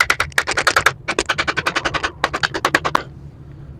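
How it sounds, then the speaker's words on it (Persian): Rapid run of sharp plastic-hammer blows on the corners of a mini angle grinder's housing during a home repair, about two dozen close, loud knocks in quick bursts with brief pauses between them. "با استفاده از یک چکش پلاستیکی ضرباتی به این گوشه های پوسته میزنیم"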